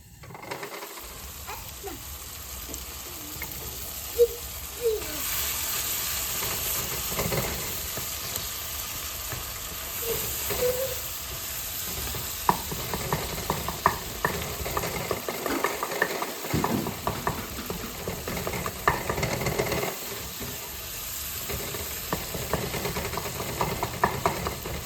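Tomatoes and onions cook in a covered pot for a simple beef stew, giving a continuous muffled sizzle and bubbling with occasional clinks and rattles, moderately quiet throughout.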